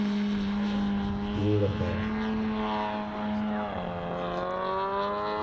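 A JR radio-controlled model airplane flies a slow roll, its propeller engine droning steadily, then shifting in pitch as it moves through the maneuver, fairly close and loud, with someone speaking briefly over it.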